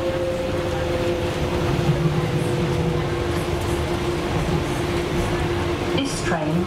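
A DLR light rail train runs steadily toward Woolwich Arsenal via London City Airport, giving a constant rumbling hum with a faint tonal whine and occasional clinks, heard from inside the carriage.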